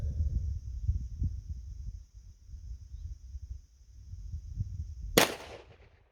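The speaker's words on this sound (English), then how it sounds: "So we'll see how these lead bullet 357s work" A Smith & Wesson Model 27 revolver fires a single lead-bullet .357 round, one sharp loud crack near the end after several seconds of low rumbling outdoor noise.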